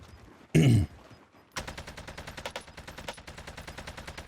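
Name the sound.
gunfire in the video game Call of Duty Warzone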